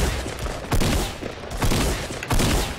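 Gunfire in the video game Fortnite, a few dense bursts of shots roughly a second apart, loud and close, with no talk over them.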